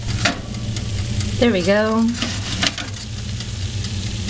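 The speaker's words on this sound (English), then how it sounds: "everything's sizzling, nice and crunchy" Food frying in hot oil until the edges curl and crisp, giving a steady sizzle throughout with a brief stir, under a short spoken phrase.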